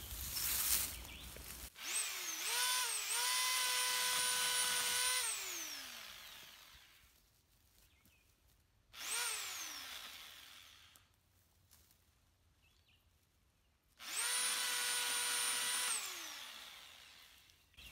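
A high-pitched electric pole chainsaw cutting branches revs up in three separate bursts, whining loudly for a few seconds each, then winding down into near silence between cuts.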